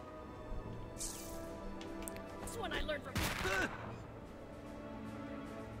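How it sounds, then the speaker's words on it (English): A quick burst of firecrackers popping in South Park: The Fractured But Whole, crackling in a rapid cluster amid game sound effects and a whoosh, with voices talking over it. "I threw firecrackers at his face"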